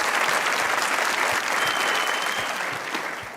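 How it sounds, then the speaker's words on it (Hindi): Studio audience applause on a talk show, a dense, loud burst of clapping from many hands that holds steady and then slowly fades, with no talk over it. "तालियां बजाए भाई।"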